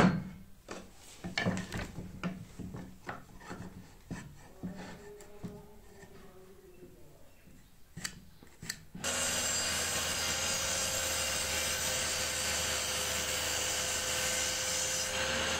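A piece for a homemade toy scooter is worked by hand with scattered knocks, scrapes and rubbing, then a power tool kicks in and cuts with a loud, steady whine that continues to the end.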